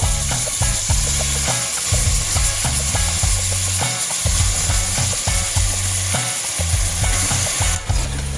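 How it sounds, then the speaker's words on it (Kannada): Loud, continuous sizzling of chicken frying in a little oil in a pressure cooker, broken by steady scraping and clattering as it is stirred. "ಚೆನ್ನಾಗಿ ಅದನ್ನು ಮಿಶ್ರಣ ಮಾಡಿಕೊಂಡು ಸ್ವಲ್ಪ ಎಣ್ಣೆನಲ್ಲೇ ಉರಿಬೇಕು"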